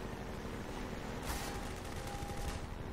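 A helicopter in Half-Life 2 opens up with rapid gunfire, a sharp burst of dense shots that breaks over steady background noise and keeps rattling for about a second.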